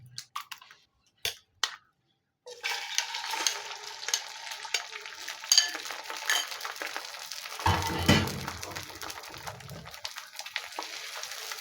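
Beaten eggs hit hot cooking oil in a pan and settle into a steady close sizzle, preceded by a few short clinks and scrapes of utensils, with no one speaking.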